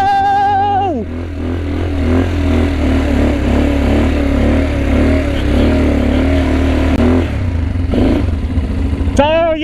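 An ATV engine revs and pulls away at a farm trail, loud and close with a steady droning roar and shifting pitch, a brief rev at the start and another at the end, while voices talk underneath.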